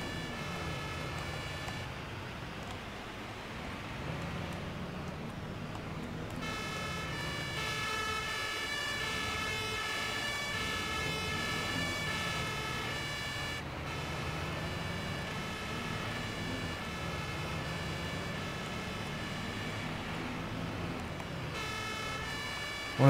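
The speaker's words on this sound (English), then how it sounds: "Oh, I forgot to hit my stupid siren." An emergency vehicle siren wails in the Notruf 112 fire emergency video game, a loud, continuous rising and falling tone with brief pauses where it cuts out, heard alone without speech.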